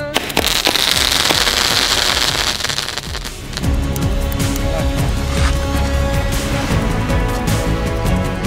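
Sivakasi Diwali firecrackers shooting into the sky and bursting, a dense, loud crackling barrage with rapid pops and rumbling blasts that runs continuously throughout.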